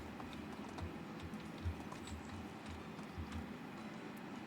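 Hooves of a horse pulling a wagon in Medieval Dynasty clop in a steady, even rhythm of soft low thuds, fairly faint under a constant outdoor ambience.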